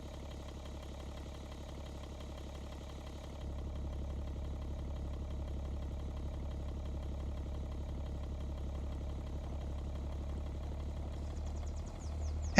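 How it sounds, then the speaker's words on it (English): Simulated car engine from the video game Car Dealer, a steady low idling drone that steps up slightly in level after a few seconds and then holds, with no voices. "Engine sound effects aren't particularly good either"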